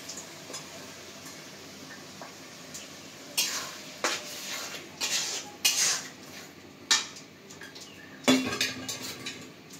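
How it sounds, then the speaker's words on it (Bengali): Soaked red lentils go into a pot of fried spices and are stirred, giving a soft sizzle under repeated scraping clinks of a spoon against the metal pot. "এখন দিয়ে দিব মসুরের ডাল।"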